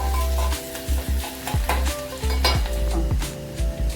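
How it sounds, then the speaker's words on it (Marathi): Onion sautéing in a pan for Konkan-style kulith (horse gram) pithi: steady close sizzling with repeated scraping spatula stirs every second or so, no voices. "कांदा टाकून जरा चांगलं परतून घ्यायचं."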